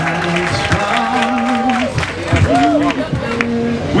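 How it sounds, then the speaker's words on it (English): An audience at a plaque unveiling ceremony applauds an honored guest. The clapping is dense and sustained, and a prominent voice carries over it. "we need a real big round of applause for our honored guest, the Dr. Hazel Dukes this afternoon."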